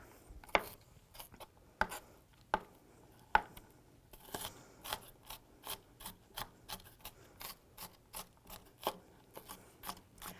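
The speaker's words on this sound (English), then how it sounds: "I'm going to go ahead and just kind of chop at it a little bit more to get the onion pieces smaller" A knife chopping onion on a board for turkey meatballs: a few spaced firm chops, then a quicker run of regular light cuts, close and quiet, no speech.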